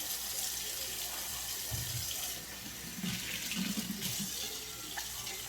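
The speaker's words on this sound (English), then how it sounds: "And then I'm going to rinse it." Tap water runs steadily into a sink while a HexClad pan is rinsed under it, a continuous close rush of water with shifting splashes as the pan moves through the stream.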